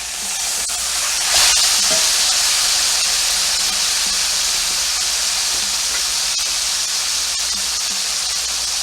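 Porterhouse steak sears in a hot pan just after being flipped, giving a loud, steady sizzle and hiss that runs throughout with a brief louder burst near the start.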